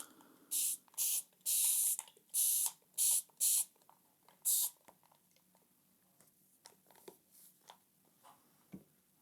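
Spray bottle misting water onto a painting, seven sharp hissing bursts in quick succession, close and loud, followed by quieter dabbing and handling sounds.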